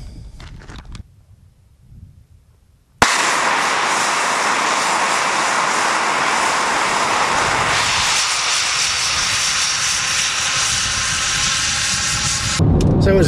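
A model rocket motor ignites and launches with a sudden loud, steady roaring hiss that holds for about ten seconds, then eases into a softer, duller rush as the rocket climbs away.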